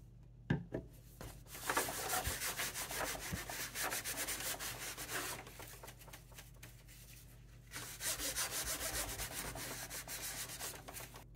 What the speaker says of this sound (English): First, to get some alcohol and something to wipe the surface with.